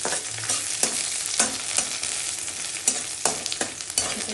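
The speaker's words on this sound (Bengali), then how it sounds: "ভেজে নিচ্ছি।" Onion, garlic, green chili, nigella seeds and dried chili frying together in a pan, with a steady close sizzle broken by repeated scraping stirs, and no voices.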